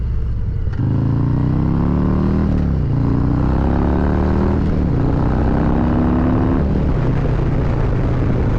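A Zephyr Blue Harley-Davidson Road King Special with a 131 cubic inch engine cruising at about 70 mph on the highway, a loud steady engine drone with rising and falling gear tones over heavy wind rush.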